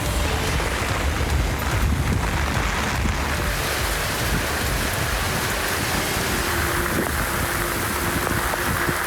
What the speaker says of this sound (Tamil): வாலாஜாபேட்டை நெடுஞ்சாலையில் பெய்த ஊசி மழையால் வாகன ஓட்டிகள் அவதிக்குள்ளாகினர்